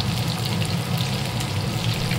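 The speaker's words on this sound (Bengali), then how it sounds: "এক এক করে সব মাছগুলো দিয়ে দিয়েছি তেলের মধ্যে, আস্তে আস্তে ভাজা হোক।" Fish spluttering in hot oil on a low flame, a loud, dense, unbroken sizzling roar heard close up without any voices.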